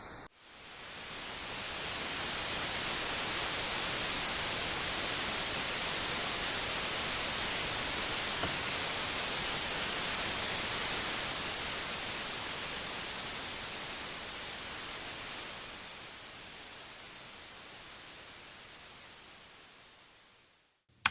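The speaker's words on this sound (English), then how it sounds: "The pink noise is almost flat now." Steady pink noise test signal with its stereo width widened to 150%, a dense, even hiss that fades in quickly, holds level, gradually softens in the last few seconds, and stops abruptly.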